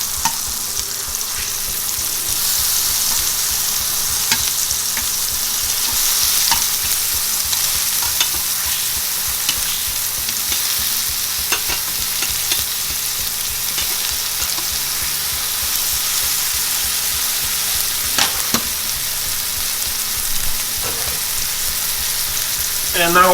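Tomatoes frying in a pan for a BLT sandwich, a steady dense sizzle running throughout with occasional stirring scrapes and small pops, close and fairly loud, with no talking.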